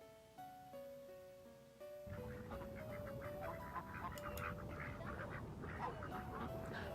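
Golduck's cry in a Pokémon game, resembling real duck quacks, heard as repeated nasal quacking calls over background game music, growing busier partway through.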